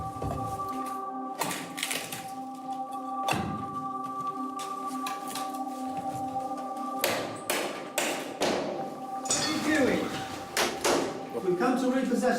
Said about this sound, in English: a High Court enforcement officer knocks on the door